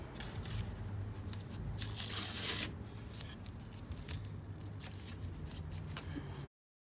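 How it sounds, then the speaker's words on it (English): Masking tape peeled off a fiberglass resin dashboard part, a continuous close ripping and crackling with a louder, sharper tear in the middle before stopping abruptly. "just flip it over and remove the tape"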